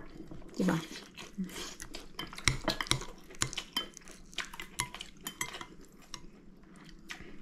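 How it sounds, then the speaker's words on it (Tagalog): Dishes, pots and cutlery clattering during washing up after a rib steak meal in a Korean home kitchen, with irregular clinks and scrapes in close quick bursts and someone speaking at the start. "kakatapos lang namin kumain and maghugas na ako"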